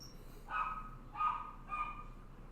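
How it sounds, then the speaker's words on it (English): Three short, distant dog barks arrive at a steady pace in the background, each one clear against a quiet indoor backdrop. "And that was my dog barking in the background."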